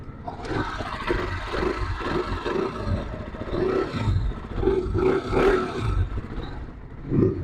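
A motorcycle engine revving nearby, a rough throbbing roar that swells and eases repeatedly without stopping.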